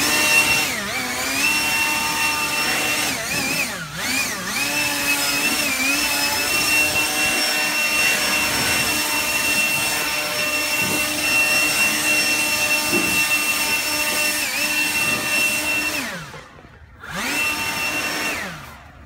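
A lawn mower cutting overgrown grass around small retaining walls, its steady whining engine running close and loud with shifting pitch as the load changes, cutting out briefly near the end before starting up again.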